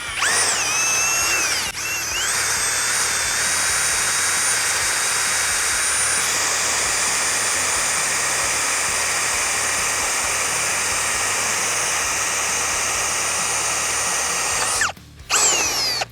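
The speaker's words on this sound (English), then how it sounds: "This is going to be a 1-inch spade bit." Ryobi drill spinning a 1-inch spade bit through a door, a loud, steady high whine running continuously for about fifteen seconds with a brief dip near the start and a short stop just before the end.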